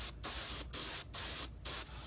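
Primer is sprayed onto the spinner back plate of a Bf 109E scale model in four close, loud hissing bursts of roughly a third of a second each, separated by brief pauses.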